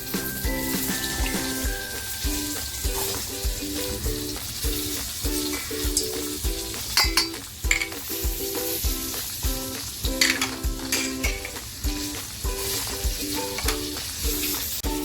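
Eggplants for a Maharashtrian-style stuffed masala dish frying in oil, a loud, constant close sizzle with crackling pops and occasional clinks and stirring scrapes, alone without talk.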